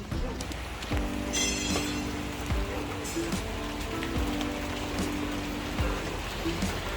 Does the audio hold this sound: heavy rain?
yes